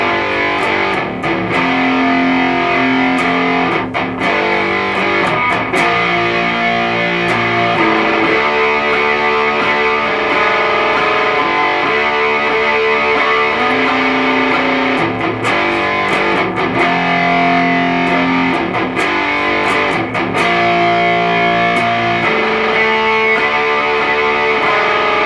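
Distorted electric guitar plays a riff slowly, with chugging palm-muted notes and ringing chords repeating steadily and loud for about twenty-five seconds, no voice over it.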